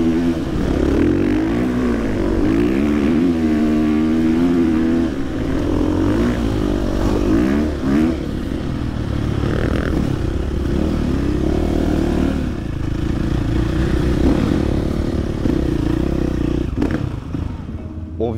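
A dirt bike rides and revs across desert sand, its engine droning loud and close throughout, rising and falling with throttle changes.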